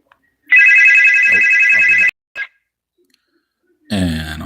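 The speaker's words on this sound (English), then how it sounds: "And on that note, I have a phone call." A phone ringtone trills loudly and steadily for about a second and a half, cuts off, and gives one short chirp, followed by a brief burst of close sound at the end.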